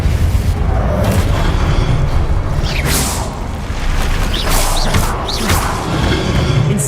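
Repeated booming spell blasts strike stone statues in a wizard video game, a dense, loud run of thuds and crashes with brief whooshing bursts over a constant rumble.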